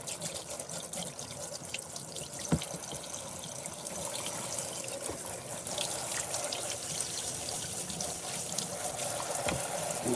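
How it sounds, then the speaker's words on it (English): A handheld shower sprayer runs steadily as it rinses soap off doll heads, a continuous splashing hiss with a few small knocks and drips and no voices. "And then you simply just rinse them off."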